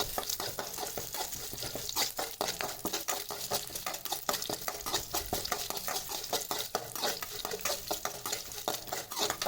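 Garlic sautéing in a pan for murungai keerai podi rice, rapid rhythmic scraping stirs over a soft, fairly faint sizzle, close and steady throughout with no talking.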